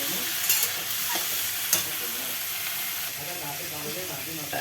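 Vegetable curry sizzling in a pan, a steady bright frying hiss running throughout with a few soft stirring clatters, close and continuous without talk.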